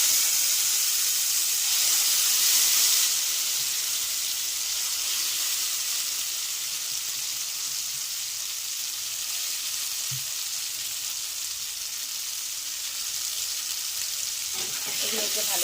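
Bottle gourd leaf paste frying in hot oil, a loud, continuous sizzle and hiss that softens slightly after the first few seconds, with an occasional faint clink and no voices.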